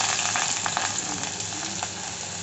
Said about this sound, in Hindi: मेरा तेल गरम हो गया, इसमें मैं डालूंगी इसमें प्याज।